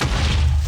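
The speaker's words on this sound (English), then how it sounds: "Every time you jump, you create a small explosion and gain resistance." A small explosion set off by jumping in Yeti Boots in Minecraft, a loud, deep boom with a low rumble that fills the moment.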